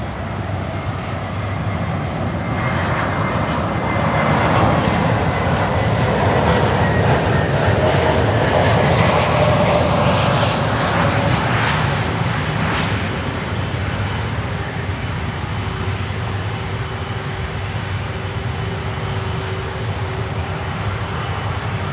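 Frontier Airbus A321neo engines at Miami airport, a loud, continuous roar that swells and shifts in pitch as the jet passes, then settles into a steadier drone with a faint tonal whine.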